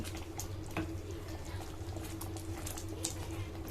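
A steady low bubbling and simmering of dal makhani in a pot, continuous and fairly quiet, with a faint hum underneath and occasional small clicks.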